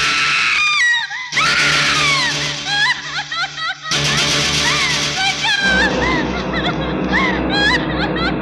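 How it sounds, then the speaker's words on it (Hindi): Screams ring out from several people during a rehearsal scene in a Hindi action film, loud, shrill cries overlapping with background music and voices throughout. "अचानक तभी मुझे किसी की चीख सुनाई दी"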